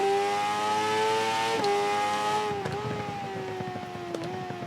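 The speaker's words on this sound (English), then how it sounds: "Let's get all the way down to first, back up, accelerate." A naked sport motorbike in the racing game Ride 3 revs with a steady, buzzing engine whine that dips in pitch at a few quick gear changes as the rider downshifts and then accelerates again.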